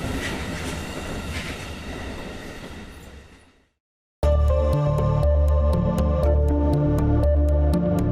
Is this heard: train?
yes